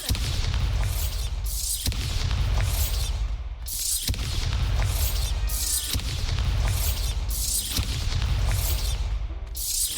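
Five heavy magical explosions from the Bombarda spell in Hogwarts Legacy, booming at a steady pace about every two seconds, each a loud blast with a low rumbling tail.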